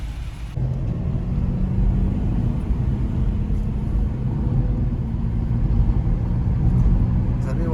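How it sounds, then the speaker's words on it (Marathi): Heavy road traffic on the Mumbai–Goa highway, slowed near roadworks, makes a loud, continuous low rumble of engines and tyres heard from close by, with no break. "आता काम चालू असेल थोडीशी ट्रॅफिक मिळाली"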